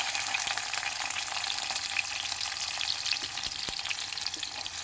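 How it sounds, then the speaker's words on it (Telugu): Onions sizzle steadily in hot oil for a liver curry, a dense continuous frying hiss with occasional small crackles and pops, close and even throughout, with no talking. "ఆయిల్ వేడెక్కిన తర్వాత ఈ ఉల్లిపాయలు వేసి వేయించుకోవాలండి"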